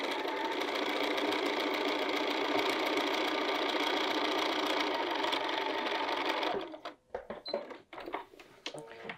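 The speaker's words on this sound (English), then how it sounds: "Go to the machine and sew across there." A sewing machine runs steadily and fairly loudly as it stitches a quarter inch seam across layers of fabric for a field bag, then stops after about six and a half seconds, leaving a few soft handling clicks and thumps.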